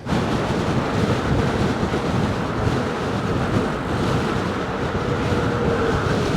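Loud, steady wind roar against the microphone while riding an electric unicycle at about 30 mph through New York City at night, forming a dense continuous rush with no talk.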